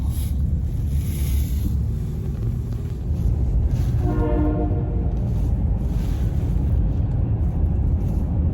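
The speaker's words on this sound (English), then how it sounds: "It's just 3 locomotives just chuffing through the yard." Three locomotives chuffing slowly through a rail yard, a heavy continuous rumble with a rising pulsing tone partway through, steady and fairly close, with no talk.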